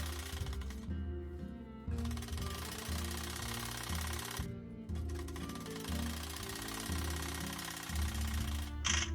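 A sewing machine stitches a fall along the hem of a mekhela, a steady close mechanical whir and rattle that runs in bursts with short pauses between runs.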